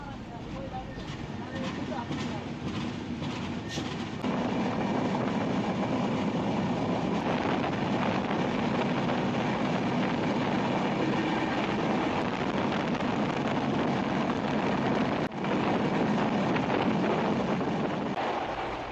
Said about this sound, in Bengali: আমাদের ট্রেন ছুটে চলছে